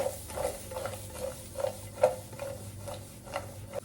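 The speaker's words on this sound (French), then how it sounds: "je mets la moitié du mélange des oignons, de l'escalope et de l'ail. Je continue à mélanger." Onions, chicken escalope and garlic stirred in a frying pan, a spoon scraping in a steady run of soft strokes over a low sizzle, close and moderately quiet with no talk.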